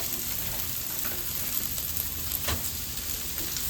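Chicken fried rice sizzles and crackles in hot oil over a village cooking fire, a steady close frying hiss with no talking.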